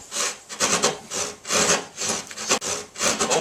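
A drywall knife saws back and forth through a wall panel during a large drywall repair, giving close, rhythmic rasping strokes about three times a second with no voices.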